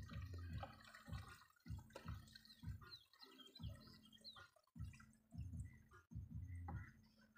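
Water glugs and splashes as it is poured into a car's windshield wiper fluid reservoir through the open cap, in several close, faint bursts separated by brief pauses.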